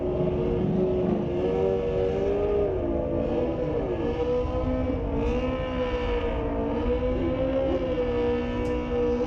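Suzuki GSX-R sport bikes, a 1997 GSX-R 600 and a 2005 GSX-R 1000, roaring steadily down a drag strip at a street-legal night drag race, a loud continuous engine drone with shifting pitch throughout.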